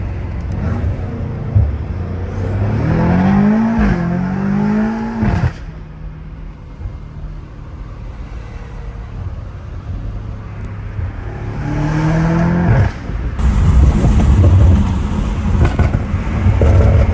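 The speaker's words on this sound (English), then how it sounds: "The way the car switches gears is so unique," A BMW M5 Competition fitted with downpipes accelerates hard, its engine note climbing through two clear upshifts with a short dip between, then a louder, rumbling surge of revs toward the end, heard from inside the car.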